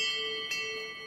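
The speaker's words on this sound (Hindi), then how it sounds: "घंटी अपने आप बज उठी।" A temple bell rings by itself at night, giving a single sustained metallic tone that hangs and slowly fades, fairly quiet, with no voices.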